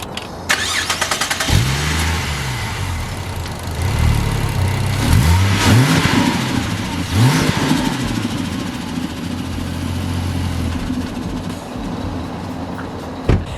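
A Ford Falcon turbo car with no muffler cranks and fires up, then revs loudly several times in rising and falling sweeps before settling into a deep, rough idle, close and raw.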